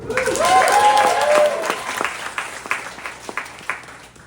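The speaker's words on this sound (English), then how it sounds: "So clap for them." Audience applause at an event, dense clapping at first under a brief whistle-like tone and voices, then thinning into scattered individual claps.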